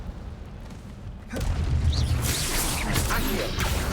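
The Incendio fire spell is cast in Hogwarts Legacy, a sudden fiery whoosh and burst that erupts after a quiet lead-in and keeps roaring and crackling to the end.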